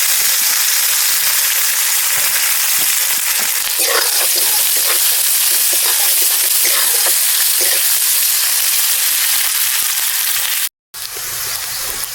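Chopped onions frying in hot oil with black cumin and whole spices, a loud, steady, dense sizzle that fills the space, with occasional stirring crackles and a brief break near the end.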